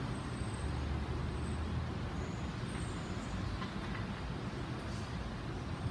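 An R142 subway train on the 4 line arrives at a station, a continuous loud rumble and roar of wheels and motors with faint high squeals, and no one speaking.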